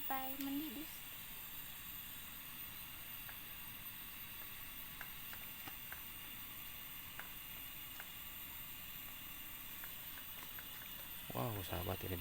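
A pot of water with bones simmers at a steady boil, a soft continuous bubbling and hiss close by, with brief voices at the start and end.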